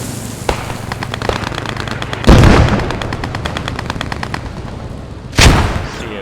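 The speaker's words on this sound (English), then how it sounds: "Accurate mortar fire." Mortar fire in a video game battle, with two sharp heavy blasts standing out over continuous rapid gunfire and rattling shots, loud and close, with no talking.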